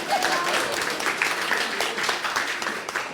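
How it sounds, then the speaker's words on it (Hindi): Audience applause at a Hindi poetry recital, a steady wash of many hands clapping throughout, fairly close and sustained without pause. "ताली बजाओ"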